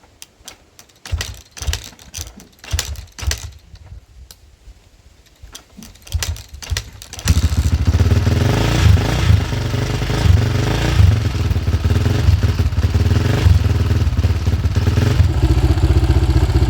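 An engine, first heard in irregular clattering bursts, settles into a loud, steady, even idle that runs continuously and close for the remaining ten seconds.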